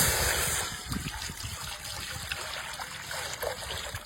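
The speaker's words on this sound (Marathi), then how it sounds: "आपण आता कढईमध्ये पाणी टाकून घेऊ।" Water is poured into a kadhai, a close, continuous splashing trickle that starts strong and then settles into a steadier flow.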